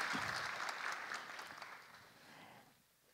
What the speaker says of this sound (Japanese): 中村市長に今一度大きな拍手をお 送りください